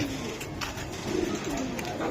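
Afsan Baga pigeons coo in soft, repeated low rolls, close by, over a steady background hiss and faint murmurs.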